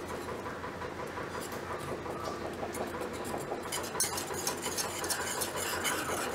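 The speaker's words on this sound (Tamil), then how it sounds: "கைவிடாமல் குறைவான தீயில வச்சு நல்லா மிக்ஸ் பண்ணிட்டு இருக்கணும்." A spoon stirring butter and dark chocolate melting in a pan over low heat, continuous soft scraping and clinking with a faint steady background hum, growing slightly busier toward the end.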